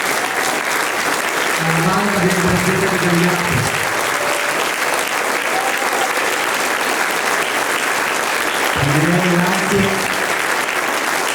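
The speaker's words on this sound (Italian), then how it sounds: "Un grande applauso" Steady audience applause fills a stage event at a community theatre production, continuous and close, with a voice speaking over it twice in Italian.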